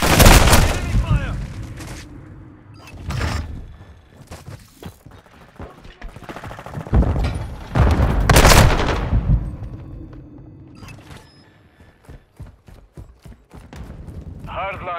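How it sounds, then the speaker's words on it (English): Enemy gunfire rings out in Call of Duty MW2 multiplayer deathmatch on PS5. Loud bursts of automatic fire and sharp booming shots come in several clusters, with scattered single cracks and quieter gaps between them. "Enemy fire."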